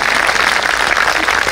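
Audience applause at a Hindi kavi sammelan poetry recital: dense, steady clapping from a full hall that holds at an even, loud level for the whole stretch, with no voices standing out.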